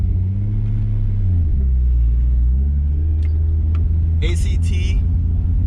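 Turbocharged manual Lexus IS300 with a 2JZ-GE engine and a three-inch turbo-back exhaust with only a muffler, no cats or resonators, rumbling at a steady idle with deep low drone, then a sharp blip with a brief spike near the end.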